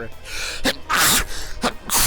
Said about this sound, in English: Fucking hate sneezing.